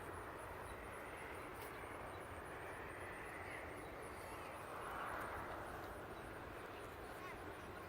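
A Dynaflite Bird of Time powered RC glider drones overhead, a steady distant propeller whine over outdoor wind noise, holding level throughout with a slight swell midway.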